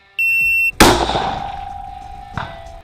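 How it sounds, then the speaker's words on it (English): A shot timer used for competition shooting practice sounds one steady electronic beep lasting about half a second, then a sharp loud crack or clang rings out and decays slowly, with a second smaller knock near the end. "we're gonna be training with this shot timer"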